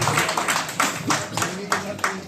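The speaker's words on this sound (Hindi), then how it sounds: "जोरदार तालियां सर के लिए" Energetic clapping at a motivational network-marketing seminar in India, sounding as rhythmic bursts of hands with a voice mixed in and rising over it between claps.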